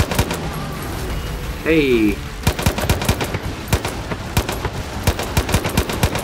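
Gunfire in Far Cry 5, rapid automatic shots in a crisp, steady rhythm after a short pause, loud and close, with a brief spoken exclamation near the start.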